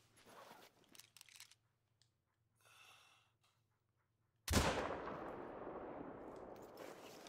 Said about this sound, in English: Let's take him with the 338.